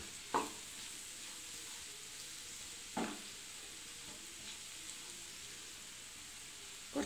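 Chilies frying in a pan for gooseberry pickle give a faint, steady sizzle, with a few sharp scrapes of stirring spaced several seconds apart.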